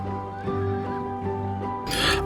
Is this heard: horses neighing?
yes